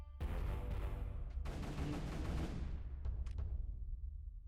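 Mortar weapons firing in Creeper World 3, a burst of rumbling booms layered into a sustained gunfire-like roar that tapers off, followed by a few sharp distant pops.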